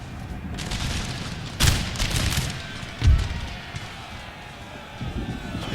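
Mortar fire in an Empire: Total War battle at Gdansk, heavy thuds landing at intervals over a constant rumble of gunfire and battlefield noise, with voices talking throughout.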